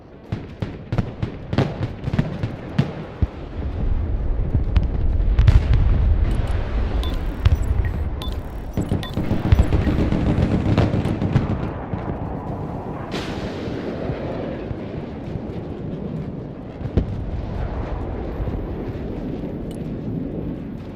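Airstrike explosions in the wartime strategy game Broken Arrow: a dense barrage of heavy booms and blasts, loud and continuous, with sharp bangs early on and rolling rumbles that taper off toward the end.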